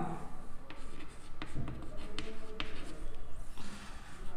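Chalk or marker writing on a board during a geometry lesson on congruent triangles, a steady run of scratchy strokes and light taps close by, with no talk over it.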